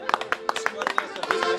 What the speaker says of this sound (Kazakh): Саматқа шапалақ ұрып жатсық.